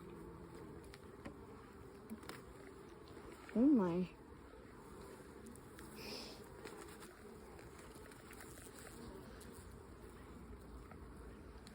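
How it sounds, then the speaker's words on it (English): Italian honeybees hum as a low, steady drone from an opened hive during an inspection, faint and continuous beneath a brief exclamation and a short whistling sweep. "Oh, that's a lot of bees."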